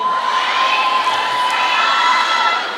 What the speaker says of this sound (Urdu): جس انداز سے ہماری بچیاں نعرے لگا کر ہر چیز کو اور ہر گفتگو کو اپریشیٹ کرتی ہیں